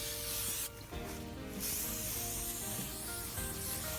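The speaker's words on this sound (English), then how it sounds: "I apply a light coat of oil, which will basically, all you're doing is re-seasoning the cast iron." Canola oil sprayed over a cast iron Lodge Sportsman grill, with a brief hissing burst of spray near the start and soft rubbing and scraping sounds afterward.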